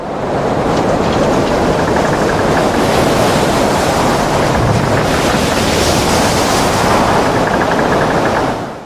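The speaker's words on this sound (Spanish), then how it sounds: "Un golpe de mar lo tumbó de costado." A heavy sea wave crashes against a sailing ship in a violent storm. It makes a loud, continuous roaring wash of water and wind that stays near and steady throughout, with no voices.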